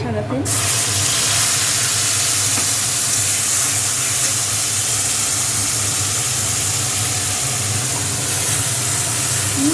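Oil in a kadai frying a paste of thankuni (Indian pennywort) leaves gives off a loud, steady, close hiss that carries on unbroken throughout.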